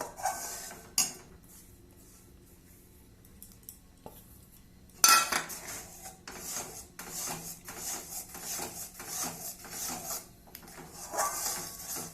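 A utensil scrapes and rubs against a pan while rice batter is stirred, a quiet stretch followed by louder repeated rasping strokes close by.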